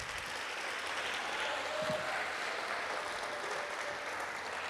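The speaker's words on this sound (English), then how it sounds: "So another round of applause for our Panthers" A crowd at an award ceremony claps steadily, a dense even wash of applause that holds at a constant level throughout, heard from within the audience.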